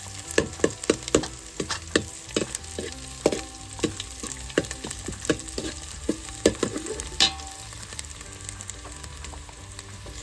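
Onion and cumin fry in a pan over a wood-fired stove, giving a busy crackle of sharp ticks and pops with scraping stirs over a low sizzle, close by and fairly even throughout.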